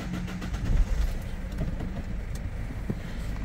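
A Citroën Berlingo B9 with a 1.6 HDi 16V diesel engine turns over and settles into a steady, rumbling idle close by, the low drone continuing without voices.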